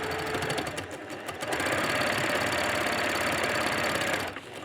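Needle felting machine running on silk fabric, a steady rapid mechanical chatter with a fast rhythmic punching beat, loud and close, pausing briefly near the start and slowing to a stop at the end.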